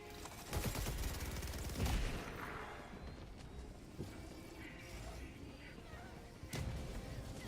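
A grenade launcher fired in a video game: a dense, continuous battle din of heavy booms and rattling gunfire, with sharp blasts standing out near the start and again late on.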